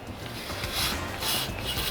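Extension pole of a Makita 40V XGT cordless pole saw being unscrewed, giving a close, steady rubbing and grinding rasp of threaded parts turning for about two seconds, with no voices.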